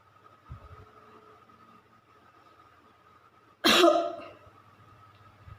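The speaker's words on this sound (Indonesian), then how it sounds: "akan saya contohkan bagaimana melakukan batuk efektif" A single forceful, deliberate cough demonstrated for clearing phlegm bursts out near the end after a quiet stretch with faint breathing and soft background hum.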